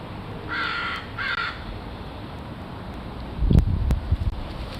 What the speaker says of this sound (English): These crows are all just tricking me out now.